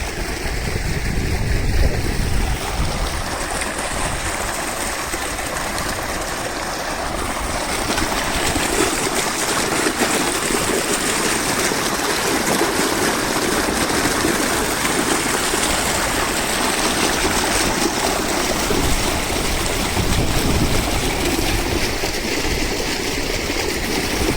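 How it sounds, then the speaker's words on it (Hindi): Water from a tubewell gushes steadily and loudly into a field nearby, a constant churning flow that continues unbroken throughout. "ट्वेल लगी हुई है, ट्वेल से पानी जा रहा है"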